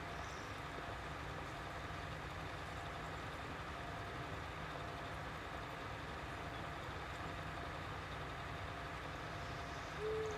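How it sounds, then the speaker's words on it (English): A tractor engine pulling a cultivator in Ravenport: a steady low diesel drone that holds an even level throughout, heard alone with no talk. "It's an impressive looking setup really with this tractor on that cultivator."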